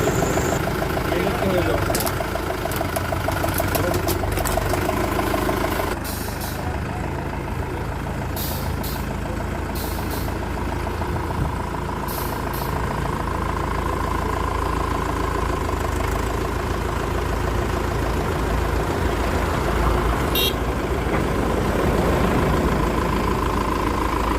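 A tractor engine runs steadily at close range during a ceremonial first drive with a coconut placed under a tire, giving a continuous loud rumbling drone with a few sharp clicks and knocks on top.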